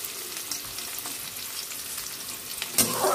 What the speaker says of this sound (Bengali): তেজপাতা, গরম মশলা ফোড়ন দিয়ে অল্প একটু পেঁয়াজ।